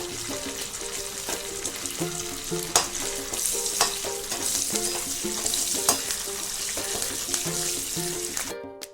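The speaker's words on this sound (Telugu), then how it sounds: "ఇప్పుడు అదే కళాయిలో ఒక రెమ్మ కరివేపాకు, 2 పచ్చిమిర్చి వేసుకొని ఫ్రై చేసుకుందాం" A sprig of curry leaves and two green chillies fry hard in a kadai, giving a dense, continuous close sizzle broken by sharp ladle clacks that cuts off abruptly at the end.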